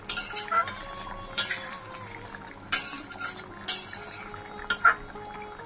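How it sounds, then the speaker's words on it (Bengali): Spoon stirring chicken liver chochchori in a pan, a few sharp scraping clinks against the metal at intervals over a soft simmering background, close and moderately loud. "এখন আর একটু নাড়িয়ে দিচ্ছি।"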